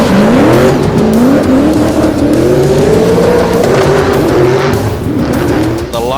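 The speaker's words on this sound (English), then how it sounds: "Luke Fink is getting some heat into those tyres, bagging up the tri-ace rears" A drift car with a 427 LSX engine spins its Tri-Ace rear tyres at a D1NZ drift championship event at Baypark, with a loud, sustained engine roar rising and falling in pitch for about six seconds over tyre squeal.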